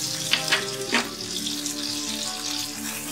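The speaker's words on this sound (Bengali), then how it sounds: "এবার মাছ ভাজা তেলের মধ্যে আমরা বেগুনগুলো হালকা করে ভেজে তুলে নেব।" Brinjal pieces lightly frying in leftover fish-frying oil, a steady close hiss and sizzle with a few brief crackles near the start, no talking.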